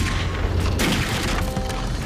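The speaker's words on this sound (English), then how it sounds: "To be precise, it's the sound of a .357 Magnum." .357 Magnum gunshot sound effect in the Titanic splitting scene: a heavy, booming report lands amid dense, roaring wreckage noise, followed by a second thud partway through the short chaotic stretch.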